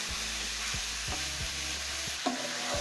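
Meat is stirred with garlic, ginger and onions in a hot pan for a cabbage dish, steady sizzling broken by rhythmic scraping strokes of the utensil and a sharper knock near the end.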